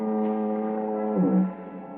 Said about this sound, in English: the monotonous moan of the foghorn down at the point near San Quentin Prison